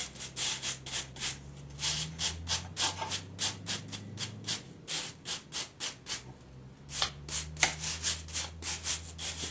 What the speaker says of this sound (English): Clean off your files.